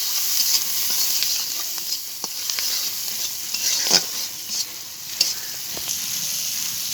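Onions sizzle steadily in hot oil in a pan, with a few soft stirring scrapes and clicks over the continuous frying hiss, close and moderately loud, with no talking.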